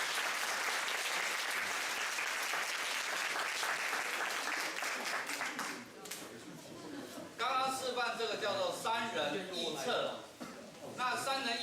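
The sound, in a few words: applause for four demonstrators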